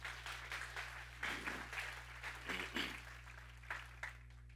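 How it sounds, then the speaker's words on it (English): Church congregation clapping in a faint, uneven patter over a steady low electrical hum, brief swells of applause rising and fading across a few seconds. "Give God a hand clap for that right there."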